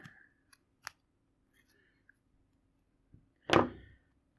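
Side cutters snip through-hole component leads, with a few small faint clicks followed by one louder, sharper snap near the end, close up in a quiet room.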